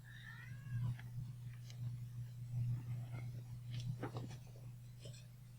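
A few short, high meows from cats in a Minecraft modpack come through over a steady low hum, with some faint rustling in between.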